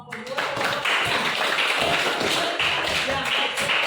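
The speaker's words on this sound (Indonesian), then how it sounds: "berikan tepuk tangan untuk kelompok dua" A classroom applauding a student group, a dense burst of many hands clapping steadily for several seconds, close and loud, with voices mixed in.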